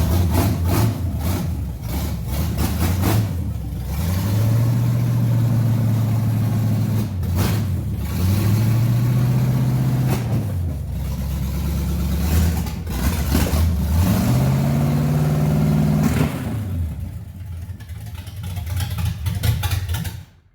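A Z28's freshly installed motor runs loud and raw through a straight downpipe exhaust, idling roughly and untuned between several rising revs that sweep up and drop back, close by with no talk.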